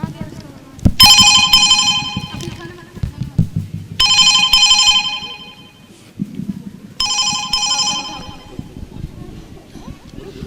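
A telephone rings in three separate bursts of bright electronic trills, each lasting about two seconds with pauses between, while people talk in an indoor school drama scene.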